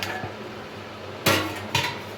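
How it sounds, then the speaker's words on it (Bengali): A metal lid comes off a cooking pot of sponge gourd and shrimp, two sharp clanking knocks of metal against metal about half a second apart, close by in a quiet kitchen. "এবার ঢাকনাটা তুলে নেব।"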